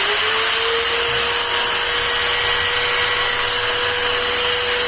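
A Bosch GWS 060 angle grinder running steadily after being switched on, a loud continuous motor whine with a high electric hum and no talking.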